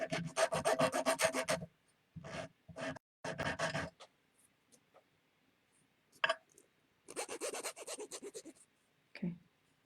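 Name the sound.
filing off sharp edges of a metal link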